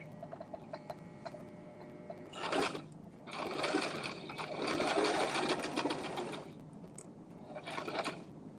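A sewing machine stitches a shirtdress in several short runs of fast, steady whirring, quiet and close, separated by brief pauses in a calm room.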